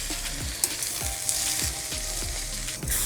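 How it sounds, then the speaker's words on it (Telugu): Spinach with turmeric frying in a pan over low to medium flame, a steady close sizzle with a few soft stirring scrapes at regular intervals and no voices. "మూత పెట్టుకొని లో టు మీడియం ఫ్లేమ్లో మధ్య మధ్యలో కలుపుతూ పాలకూర మొత్తాన్ని బాగా మగ్గనిద్దాం"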